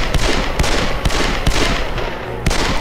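Sharp gunshots crack out in the Call of Juarez: Bound in Blood video game, loud and close, firing in a quick irregular series of about half a dozen reports over a busy background.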